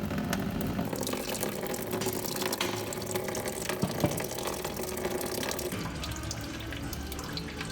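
Coolant drains from a loosened hose on a DeLorean engine during a fluid flush, a continuous splashing trickle of liquid pouring steadily into a container throughout, close and fairly loud, with no talk.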